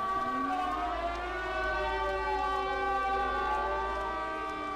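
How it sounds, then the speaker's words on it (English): A video game alarm siren wails continuously, its layered tones sliding slowly up and down, loud and sustained with no voices. "That siren's alarming."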